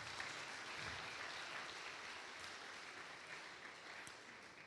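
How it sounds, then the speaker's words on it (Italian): Church congregation applauding during a Sunday gospel service, a steady wash of clapping throughout, moderately distant and fairly quiet, with no voices over it. "Può applaudire se vuole."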